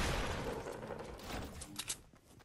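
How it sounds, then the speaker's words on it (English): Quiet, distant bursts of rapid gunfire in the video game Fortnite rattle for a couple of seconds, with no speech over them. "I don't know where I'm getting shot from."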